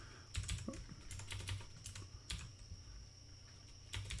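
Rapid clicking of keys typed on a computer keyboard, arriving in short bursts with brief pauses, close and fairly quiet, with no voices.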